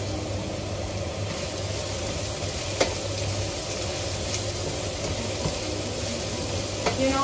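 Courgette spaghetti frying gently over low heat in a pan, a soft continuous sizzle with a faint low hum underneath and a couple of small ticks, steady throughout.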